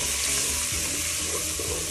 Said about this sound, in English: So the onions have been sauteing for about 1 minute